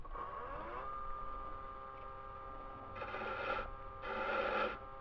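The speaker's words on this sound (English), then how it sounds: "At this point is where that cove starts. We'll try the gouge." A woodturning gouge cuts a cove in a chess piece spinning on the lathe: a steady motor hum runs under two separate bursts of rough, hissing cutting, each about a second long, heard close and fairly quiet.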